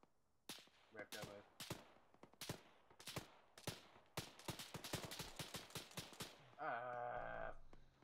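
Sharp, close gunshots ring out in Arma 3, first spaced single cracks then a quick rapid string of fire, with a brief voice and a tonal game sound near the end.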